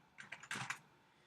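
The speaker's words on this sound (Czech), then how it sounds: "a teď píšu heslo" A password is typed on a computer keyboard: a quick burst of about five light, close key clicks, then quiet.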